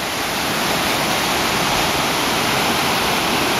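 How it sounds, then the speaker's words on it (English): A stream swollen after Typhoon Usagi rushes loudly and steadily, a dense, unbroken roar of high water close by with no other sounds. "We wanted to come out and see how much water was coming down the stream that we normally go for a little dip in"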